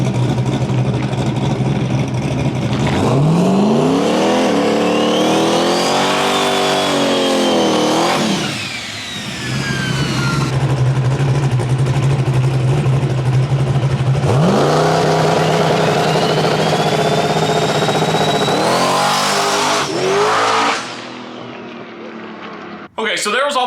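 A 1000+ hp Corvette Z06 drag car with a built 428 engine and Procharger supercharger roars through loud, sustained acceleration runs, its pitch sweeping upward repeatedly, with a brief lull midway and an abrupt cut-off near the end.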